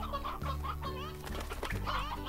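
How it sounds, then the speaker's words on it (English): Chickens in the video game Slime Rancher cluck in short repeated bursts, fairly loud and close, with a steady game music bed underneath. "how are my chickens doing?"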